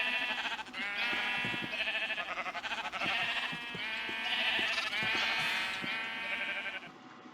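Sheep bleat repeatedly in a farm video game, a steady run of wavering, nasal calls overlapping closely and loudly with brief pauses between them.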